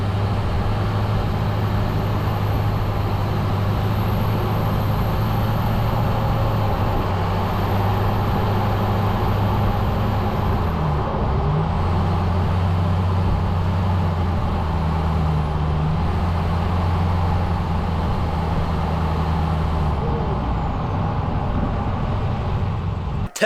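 Steady low rumble of a 2012 GMC 2500 pickup truck driving over a rough road, a continuous close engine drone with road noise running through the whole stretch, no talking.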